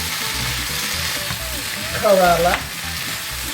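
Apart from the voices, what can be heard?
bitter gourd (ampalaya) toasting in a pan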